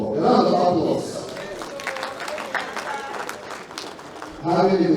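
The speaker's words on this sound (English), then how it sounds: "Round of applause." Audience at an Igbo women's gathering in North Carolina clapping, with bursts of crowd applause at the start and end and a voice speaking over it in the middle.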